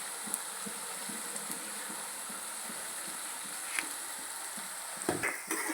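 Green chilli paste with turmeric and salt fries in a pan, a steady close sizzle running throughout with scattered light scrapes and clinks of stirring, a few sharper knocks near the end.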